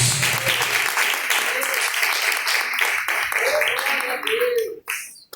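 A church congregation claps in praise during a live worship service, dense continuous applause with voices underneath, breaking off abruptly near the end.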